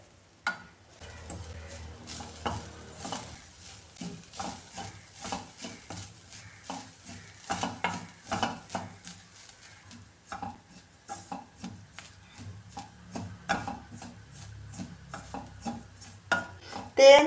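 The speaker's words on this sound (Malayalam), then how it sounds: "ഇതിപ്പോൾ ഞാൻ മീഡിയം ഫ്ലെയിമിലിട്ടാണ് ഇത് വറുത്തെടുക്കുന്നത്" Grated coconut frying in coconut oil on a medium flame for Kerala onion theeyal, with a spoon scraping and stirring the pan in steady repeated strokes over a soft sizzle, close and fairly quiet.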